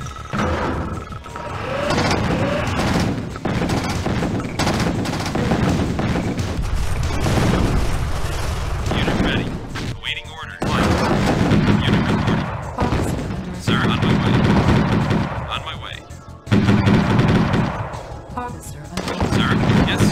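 Heavy gunfire and artillery in Tiberian Sun Firestorm, a GDI versus Nod skirmish on the Sinkhole map, with sustained rattling bursts and booms almost nonstop, broken by a few short lulls, with voices mixed in.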